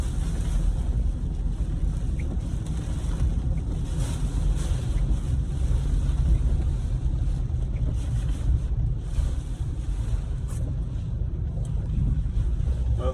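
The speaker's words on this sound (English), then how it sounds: "Look at that wind. She is still zinging pretty dang good." Hurricane Helene's strong wind roars continuously, a dense, loud rushing buffet with gusty surges and microphone rumble, steady from start to end.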